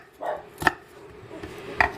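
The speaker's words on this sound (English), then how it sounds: "So I'm just going to cut these onions up." A knife chops strong onions on a cutting board with a few separate, close thuds spaced unevenly, set in quiet surroundings with no talk.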